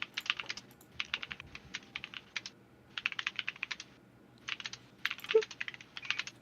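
Typing on a computer keyboard: bursts of quick, close key clicks in irregular runs separated by short pauses, heard alone with no talking.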